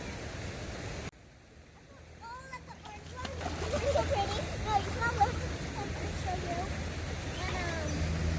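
Gentle water splashing as children wade in a shallow stream on a summer nature outing, soft continuous sloshing and trickling with a kid's voice and chatter mixed in.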